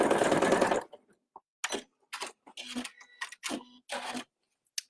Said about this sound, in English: I've stitched my 3-inch line